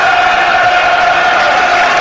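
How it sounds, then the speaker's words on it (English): Millwall football supporters roar and cheer at The Den during a match against Nottingham Forest, a dense, loud, sustained crowd din with no break across the whole moment. "And the Millwall crowd generate this sort of atmosphere."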